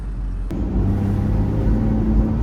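A Porsche Boxster's engine drones steadily from inside the moving car, a loud low rumble with road noise, rising slightly after a brief click near the start, with no talking.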